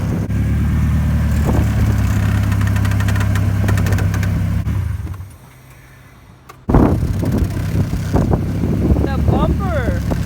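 A Mazda Miata engine idles with a steady low rumble, cuts out briefly, then fires back up and keeps running with clattering noises over it.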